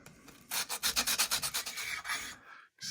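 Custom knife scales on a KnifeKit Stinger framelock are sanded down to the metal frame, giving about ten close, steady rhythmic rasping strokes with no talking.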